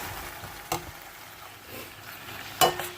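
Potatoes frying in a pan give a soft, low sizzle, broken by two sharp scrapes of stirring, one early and one near the end.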